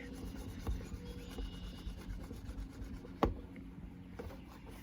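A clay bar rubs lightly over car paint in soft, repeated strokes, a faint close scuffing with one sharper knock partway through and no voices.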